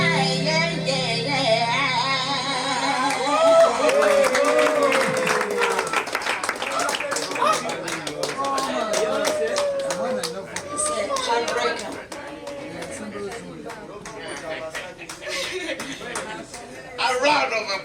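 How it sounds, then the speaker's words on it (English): An audience bursts into applause and cheering, dense clapping that gradually thins out over chatter, laughter and voices talking throughout. "A round of applause to Joe."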